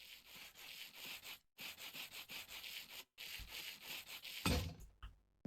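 In the modded Minecraft game, sandpaper rubs in steady rhythmic rasping strokes, broken by two brief silent gaps and ending in a louder scuffing burst, with no voices.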